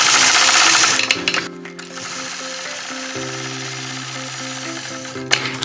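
A sewing machine stitches quilting lines through a red and white heart flag quilt, its motor running loud and steady with a rapid needle rhythm. The machine pauses briefly partway through, then restarts and keeps going at a lower pitch.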